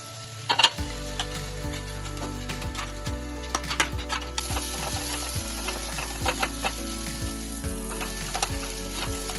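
Mashed potato filling for stuffed capsicum being sautéed in a pan with a little water, a loud continuous sizzle with repeated rhythmic scrapes and knocks of the spatula against the pan, close up and without speech.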